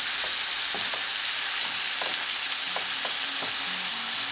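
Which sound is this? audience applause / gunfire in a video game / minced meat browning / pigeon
minced meat browning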